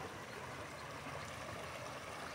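Muddy, reddish-brown Cañaveralejo river flowing in the rain as someone stands in the water, giving a steady, even wash of broadband rushing noise that never breaks, faint and continuous throughout.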